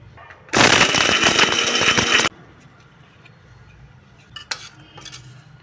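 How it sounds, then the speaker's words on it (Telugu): A mixie grinding drumstick leaf spice powder with salt roars loudly for about two seconds and then cuts off abruptly, followed by quiet and a few light clatters of the jar. "ఇప్పుడు దీన్ని మిక్సీ వేసుకుందాం"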